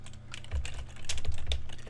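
Fingers type on a computer keyboard in quick, uneven bursts of close clicking and tapping, sitting alone without any voices.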